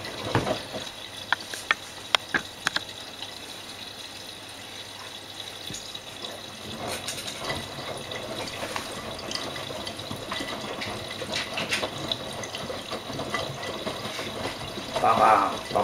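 Miele Navitronic washing machine filling with water during an easy-care 50°C cycle, a continuous moderate rush and splash of incoming water with faint knocks and clicks.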